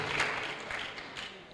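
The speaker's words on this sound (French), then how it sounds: "Let's give the Lord a hand of praise" A brief burst of clapping from a church congregation praising the Lord, moderately loud and diffuse, lasting under two seconds.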